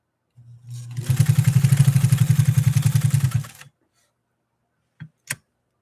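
Pfaff 130-6 sewing machine running a long straight stitch through hardened leather, a loud fast rhythmic clatter of needle strokes lasting about three seconds, followed by two brief clicks.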